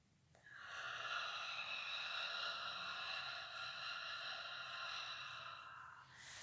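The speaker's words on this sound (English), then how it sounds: "Inhale through the nose and inhale." A long, steady inhale drawn in through the nose during a facial tension release and massage routine, close and quiet, lasting several seconds with no talking.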